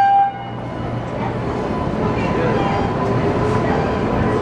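A subway train rumbles through America's oldest subway, a loud, steady rolling roar close by that builds after a brief opening tone and continues alone to the end.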